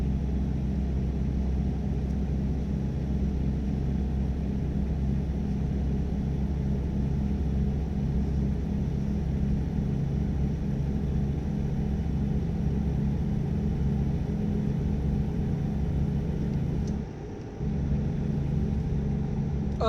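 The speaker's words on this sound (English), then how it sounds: "The truck is still struggling." A heavy truck engine in American Truck Simulator rumbles low and steady, struggling under load, a continuous droning hum with a brief dip near the end.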